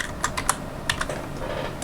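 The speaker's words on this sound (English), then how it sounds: "we're going to go ahead and type in admin for the password, hit login" Keys on a computer keyboard are struck in a few quick, close clicks, sparse and irregular, with quiet pauses between them.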